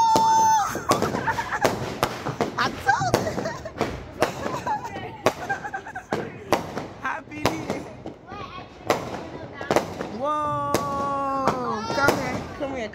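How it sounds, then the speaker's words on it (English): New Year fireworks go off in repeated sharp bangs and crackles, some close and loud, scattered irregularly over the whole stretch, while excited voices and cheering talk over them. "Here comes the fireworks."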